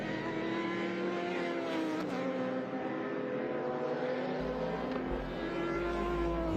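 Race car engines howl steadily during the Sydney Masterblast race, a loud sustained drone with shifting pitch as cars hold speed and jostle for position, with no pauses in the roar.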